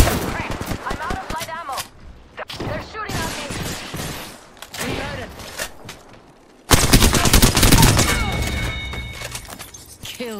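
Rapid automatic gunfire from Apex Legends rattles in dense bursts, stopping for a moment before a louder sustained volley, with game voices heard between the shots.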